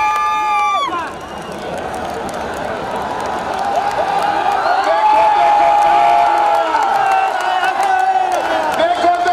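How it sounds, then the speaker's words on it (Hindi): A large crowd at an AIMIM election rally in Mubarakpur, Azamgarh, cheers and whoops loudly and continuously, with sustained shouting and applause mixed with voices throughout. "मैं आपसे अपील करता हूँ कि आप उनका तालियां बजाकर खैर मकदम करें।"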